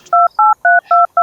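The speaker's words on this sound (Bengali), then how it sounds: "একটা মিনিট ফোন দেবো সেরে" Keypad tones sound as a phone number is dialed, five crisp, evenly spaced dual-tone beeps in quick succession, loud and close with nothing else behind them.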